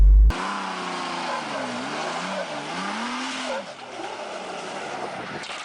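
A 2005 Jeep LJ with a mechanical locker makes a quick turn, its engine droning loud and close while the tires squeal and scrub in wavering, rising and falling tones before easing off.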